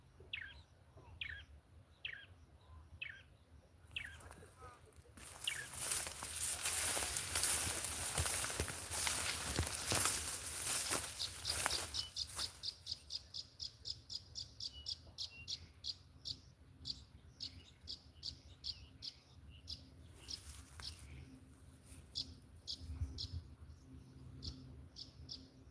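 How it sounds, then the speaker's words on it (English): Wild birds in tall grass in Kenya give repeated high, evenly spaced chirps, interrupted midway by loud rustling and footsteps through the grass, then the chirping resumes in quick rhythmic series. "Is that a bird? Listen."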